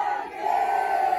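A crowd at the grand final of a Brazilian rap battle roars and shouts in one loud, sustained burst.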